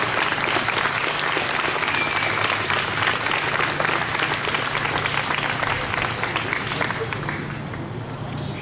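An outdoor crowd at a Joan of Arc day parade rally in 2016 bursts into loud, sustained applause that holds steady and then eases slightly toward the end.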